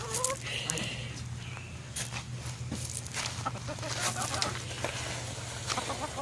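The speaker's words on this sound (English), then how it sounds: "we give this to the chickens because they like to scratch through it" Backyard chickens cluck and murmur while scratching through cabbage scraps in a garden coop, soft scattered calls at close range over a steady low hum, with occasional rustling and brief movement sounds.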